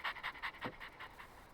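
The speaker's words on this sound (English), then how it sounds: "Good puppy." A dog pants in quick rhythmic breaths, close and clear, in the Final Fantasy XIV video game.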